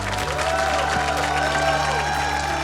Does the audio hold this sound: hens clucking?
no